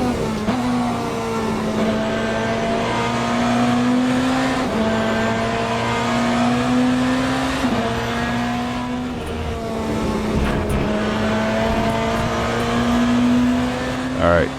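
Cadillac race car in Le Mans Ultimate with a loud, steady engine roar that rises through the gears, each upshift bringing a brief dip before it climbs again, joined by other cars and faint tire noise.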